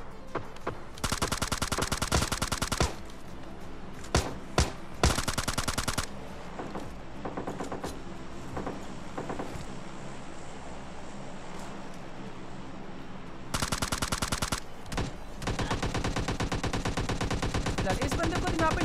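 Automatic gunfire spray in the shooter game PUBG Lite, several loud bursts of rapid-fire shots, the first two close together, then a long lull of game ambience before another sustained burst runs to the end.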